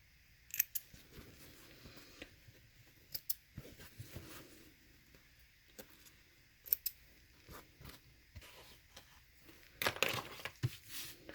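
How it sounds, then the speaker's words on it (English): Small scissors snip sewing thread on a zipper pocket, a few faint, sharp, isolated clicks scattered across quiet surroundings with light handling rustle. "Snip our thread."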